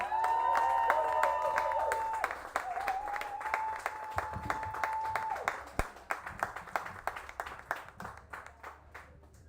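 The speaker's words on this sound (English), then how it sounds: "Please give a massive round of applause for Lorella!" Audience at a poetry night breaking into applause, dense clapping and cheering that gradually thins into scattered individual claps.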